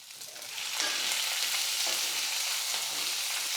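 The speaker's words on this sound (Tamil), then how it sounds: "இப்போ வந்து வெங்காயம் சேர்த்துக்கிறேன்" Onions hit a pan of frying lentils and chillies, the sizzle swelling quickly to a steady, close hiss that holds to the end.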